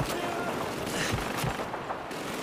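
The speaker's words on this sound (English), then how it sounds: "How is he shooting upstairs with that thing?" Gunfire in the World War II shooter Call of Duty 2, a dense, continuous wash of battle noise with a few heavier thumps, mixed with the game's other combat sounds.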